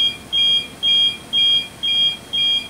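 An off course alarm on navigation equipment beeps during a test, five evenly spaced loud, piercing electronic beeps, each about a quarter second long, with no talk.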